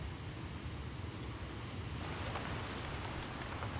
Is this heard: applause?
no